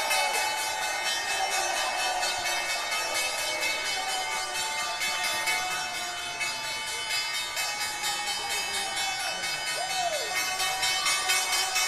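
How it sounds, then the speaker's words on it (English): The closing bell rings at the New York Stock Exchange, a sustained metallic ringing that continues for about twelve seconds over a crowd murmur. "Time now for the closing bell."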